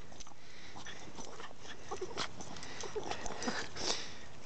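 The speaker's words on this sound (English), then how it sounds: "I have my crazy little dog here" A small dog whines and whimpers eagerly at close range over light rustling and outdoor background noise, with scattered short yelps rising and falling.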